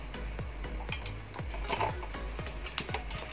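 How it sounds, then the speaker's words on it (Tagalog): Corned beef cooks in oil in a pan, with a soft, regular series of utensil scrapes and taps against the pan over a low steady hum, quiet and close. "So, lulutuin na natin ang corned beef."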